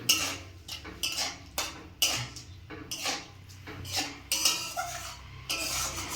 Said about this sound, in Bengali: এবার কিছুটা জল দিয়ে ভালো করে নেড়ে